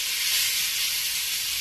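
Masala-stuffed brinjals sizzle steadily in a hot tempering of hing and turmeric, a dense, even frying hiss that stays close and constant throughout, with no talking.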